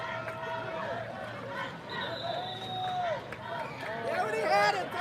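A high school football crowd at SACS versus St. Joseph murmurs and rises in a loud, shaky roar before a big defensive play, with a commentator talking over it.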